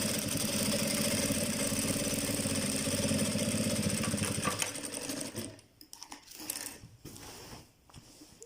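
A sewing machine runs steadily stitching a shirt placket, a fast continuous whirring hum for several seconds before it stops, leaving a few short, quieter bursts and handling noises.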